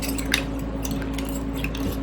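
A utensil scrapes and taps softly around the inside of glass canning jars packed with fire-roasted Pueblo chile to free trapped air bubbles, with faint clinks and wet squishing over a steady low hum.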